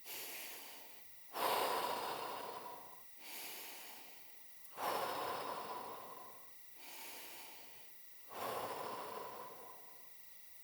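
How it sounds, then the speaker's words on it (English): Slow recovery breathing exercise: four deep, unhurried breaths, each a quiet inhale followed by a louder, longer exhale, close and alone. "And now 4 recovery breaths."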